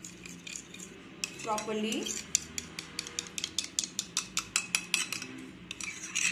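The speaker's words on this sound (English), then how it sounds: "Let's mix it well, see that no lumps are there" Curd is stirred briskly in a bowl with a metal spoon, a fast, regular run of sharp clinks against the bowl's side. A voice speaks briefly near the start, then the tapping continues alone.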